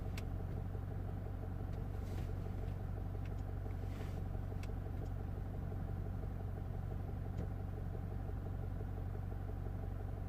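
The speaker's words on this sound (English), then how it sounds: "Because I have the engine running" Peugeot 508 2.2 HDI diesel with a no-power, under-boost fault, running at a steady idle: a constant low rumble with a faint regular clatter, close and unchanging, with a few light clicks over it.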